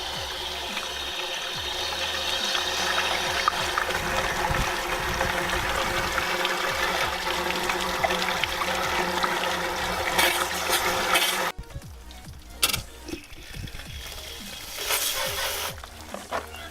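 Plain water, no soap, sprays steadily onto the clutch cover of an Arctic Cat Alterra TRV, a broad close hiss that cuts off partway through, followed by scattered clanks and a brief return of the spray.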